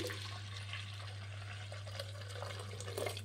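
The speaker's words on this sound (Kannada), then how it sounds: "ಒಂದು ಅರ್ಧ ಲೀಟ್ರಷ್ಟು ನೀರು ಹಾಕ್ಕೊಳ್ಳಿ." Water is poured into a pot of moong dal with onion and sambar powder, a faint, steady splashing and trickling over a low electrical hum, with no voices.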